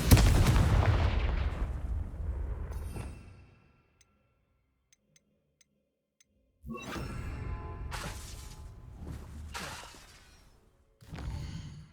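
Fiery Confringo spell blasts from the Hogwarts Legacy video game, heard as loud explosive bursts with shattering crackle: one long blast fading over three seconds, a quiet gap, then a second burst and a shorter third one near the end.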